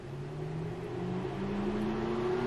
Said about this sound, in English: You can hear my engine fan is already spinning.